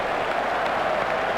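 Crowd at a cricket Test match between India and South Africa applauding a caught wicket, dense sustained clapping from a large stadium audience, steady and fairly loud with no speech.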